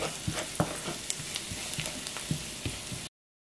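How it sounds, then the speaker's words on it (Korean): Minced garlic sizzles in oil in a frying pan, with a steady close crackle and scattered louder pops over a bit more than three seconds, then silence. "팬에 다진 마늘을 넣은 다음 오일을 넣고 타지 않게 마늘 향을 내주세요."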